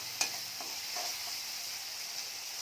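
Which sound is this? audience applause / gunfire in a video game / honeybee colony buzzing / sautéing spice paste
sautéing spice paste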